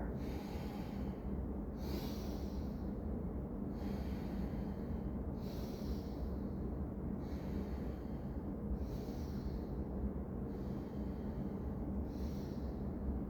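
Slow qigong breathing, faint and close: soft airy inhales and exhales alternate in a steady rhythm, roughly every two seconds, with no talk.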